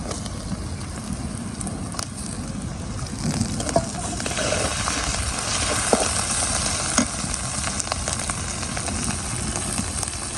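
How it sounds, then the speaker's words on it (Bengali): Prawns fry in oil with browned onions, a loud continuous sizzle with a broad hiss and occasional small pops and clicks, steady throughout and close up. "এখন এই যে চিংড়ি মাছগুলো দিয়ে দেবো।"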